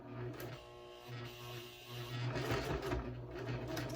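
Sewing machine stitching a budget wristlet bag at a slow pace, running in a steady mechanical hum with brief pauses and pivots, close and fairly faint, no talking.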